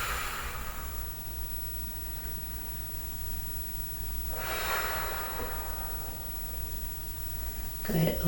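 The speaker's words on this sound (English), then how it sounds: "Couple deep breaths here." Slow, deep breaths in a yoga-style flow session, two long airy rushes of breath rising and fading several seconds apart, heard close over a steady low hiss, with a brief sharper sound at the very end.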